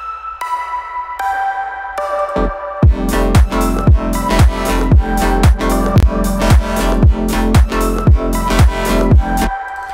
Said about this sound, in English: Something that I have to show you as well is the synth.